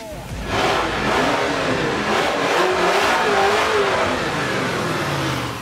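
The Dodge Torretto's engine revs hard in the Forza Motorsport 7 racing game, a loud, steady, rising roar that fills several seconds with no talking over it.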